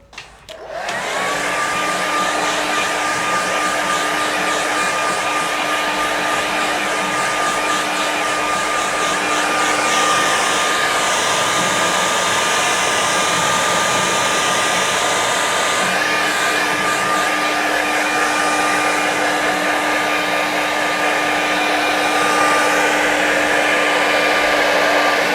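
A hair dryer blows on a watercolour painting of a Scottish Highlands landscape, switching on sharply and then holding a steady, loud, close whine with a constant tone for the full length.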